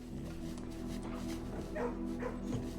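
A dog in the video game Blue Prince gives a few short barks and yips partway through, set against a steady hum of background game music.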